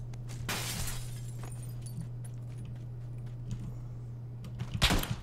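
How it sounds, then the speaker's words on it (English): Glass shatters as a window is smashed in PUBG, a bright crash near the start followed by a low steady hum and scattered small clinks, with another sharp burst of breaking near the end. "as soon as I busted the window, he was there"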